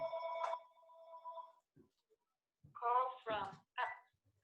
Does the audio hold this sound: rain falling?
no